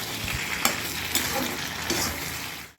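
Mutton and cauliflower fry dry in an iron pan with a loud, close sizzle, while a spatula scrapes and stirs in a few distinct strokes.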